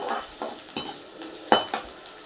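Ginger, garlic and green chili sauteing in hot oil sizzle brightly and close up, with quick repeated spatula stirs and scrapes against the pan, no voices.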